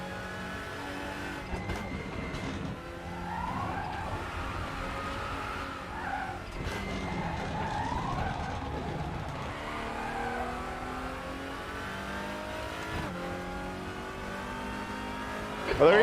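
Race cars in a WTCR championship sim racing game at the Nurburgring GP circuit, engines droning and revving steadily with shifting pitch, occasional tire squeal and skids, a close pack of cars heard continuously at moderate loudness.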